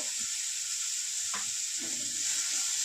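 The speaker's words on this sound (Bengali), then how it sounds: "হালকা হালকা করে একটু আদা রসুন বাটা দেবো" Ginger garlic paste sizzling in a frying pan for a Bengali fish and eggplant curry, a steady bright hiss of frying oil throughout with a brief soft scrape of stirring, no talk.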